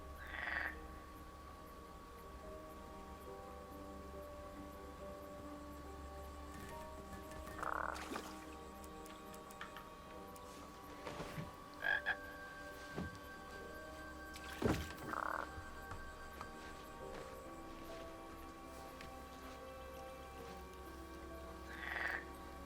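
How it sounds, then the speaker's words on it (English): Frogs croak in the PS4 video game King's Quest (2015): scattered, fairly faint croaks sound at intervals over a quiet, steady ambient bed with no talking. "Here, it's the cute little frogs."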